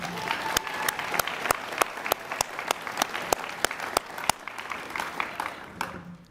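An audience at a 2024 graduation ceremony applauds after a student's poem: steady, dense clapping for about six seconds, with a few louder, nearer claps standing out before it thins at the end.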